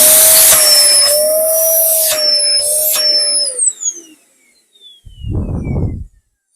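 An Electrolux Powerlite Z3319 1800w vacuum cleaner runs loud and close with a high whine, its motor dips twice, then it shuts off and spins down, followed by a short burst of rumbling noise.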